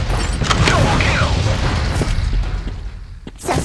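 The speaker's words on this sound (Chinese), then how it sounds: "小心手雷！ 手雷！" A hand grenade explodes in the mobile shooter game Crisis Action with a loud, close, broad boom and rumbling debris that fades over a few seconds, then a fresh burst of noise.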